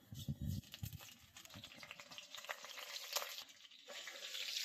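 Fenugreek seeds and vadagam fry in hot oil in a kadai for a fish curry, giving a soft, steady sizzling crackle with a few louder bursts near the start.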